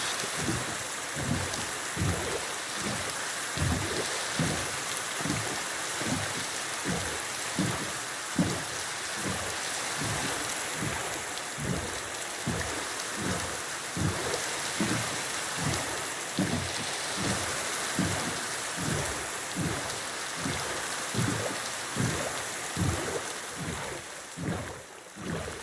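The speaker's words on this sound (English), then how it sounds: "Oh no, it's raining." Steady rain falls in the video game Minecraft, a constant hiss with a regular series of soft thudding pulses running throughout, loud and continuous with no talk.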